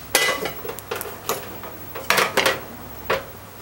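Pots and metal cutlery clatter in a home kitchen while liver is being fried, sharp close clinks and knocks in irregular bursts separated by brief pauses.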